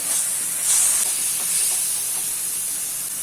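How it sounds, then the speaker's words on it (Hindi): Masala with tomato puree and salt cooking in oil in a pan for soya keema, giving a steady close hiss and sizzle with faint stirring scrapes throughout, no voices. "अभी इसको जब तक मसालों से ऑयल रिलीज होना स्टार्ट नहीं हो जाता तब तक कुक कर लेते हैं।"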